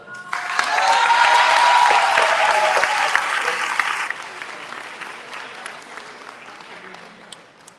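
A crowd bursts into loud, sustained applause that peaks early, then gradually thins and fades out over several seconds.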